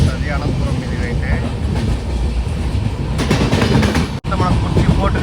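A weekly superfast express from Kacheguda to Mangaluru rolls along with a loud, steady rumble and rhythmic clickety-clack of wheels over rail joints, heard from on board, with a brief dropout near the end.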